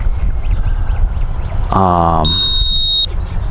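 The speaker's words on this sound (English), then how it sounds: "the Tyrannus is beeping like, oh, it's getting low" A single steady high-pitched low-battery beep from a Tyrannus FPV receiver holds for about a second, starting over a loud buzzing drone from a Jumper X73S mini brushless FPV quadcopter and constant wind-like rumble.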